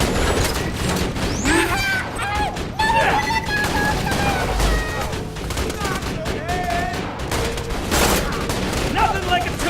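Dense, continuous turret gunfire rattles through a chaotic Borderlands 2 battle, with explosions and whistling in-game effects layered over it and voices mixed in throughout.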